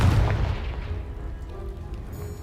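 A Confringo blasting spell detonates in Hogwarts Legacy, a single deep booming explosion that hits hard at once and rumbles away over a couple of seconds.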